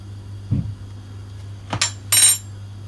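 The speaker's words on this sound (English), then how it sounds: "just going to give that a stir" A spoon stirs seasoned calaloo and saltfish in a pot, with three sharp metallic clinks and scrapes against the pot spaced over a few seconds over a low steady hum.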